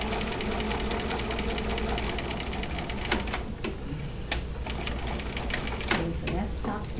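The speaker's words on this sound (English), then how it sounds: "so that's top stitching" Sewing machine topstitching along a skirt edge, a steady close mechanical rattle of rapid needle strokes running throughout, with a few sharper clicks and a voice speaking over it.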